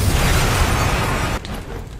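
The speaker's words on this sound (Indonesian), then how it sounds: "rumah Taiyo meledak." A house explodes in the anime Yozakura Family, a loud dense rumbling blast that drops abruptly in level partway through and leaves a lower rumble.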